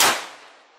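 A single sharp shot from a 9mm carbine firing 50-grain rounds over a chronograph cracks loud and close, then rings down in a fading metallic tail under a second.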